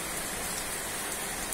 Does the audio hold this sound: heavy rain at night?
yes